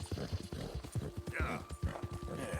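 Horse galloping through a herd of bison in Red Dead Redemption 2: quick, close clip-clop hoofbeats in steady rhythm, with a brief tonal game sound and some faint background noise mixed in.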